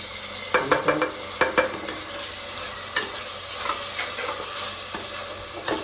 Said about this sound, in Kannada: ಅದರಲ್ಲಿ ಈಗ ಟೊಮೆಟೊ ಹಾಕ್ತಾ ಇದ್ದಾರೆ.